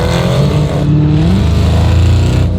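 Dodge Hellcat V8 with a loud aftermarket Corsa or AWE exhaust, a deep continuous rumbling growl that holds steady and close throughout, with no talking over it.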